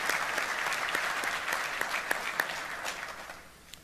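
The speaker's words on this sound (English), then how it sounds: "Please, round of applause for our partners from the combined force." An audience at a US Army Pacific command address gives a round of applause, sustained clapping with some sharper individual claps standing out, gradually thinning toward the end.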